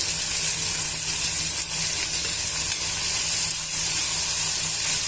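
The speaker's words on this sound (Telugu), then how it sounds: "పచ్చిమిర్చి చీలికలను వేసుకోండి వేసుకున్న తర్వాత ఇవన్నీ కూడా వేయించుకోవాలండి" Slit green chillies and onion pieces fry in hot oil, giving off a loud, steady, unbroken sizzle with no voices.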